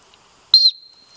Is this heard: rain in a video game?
no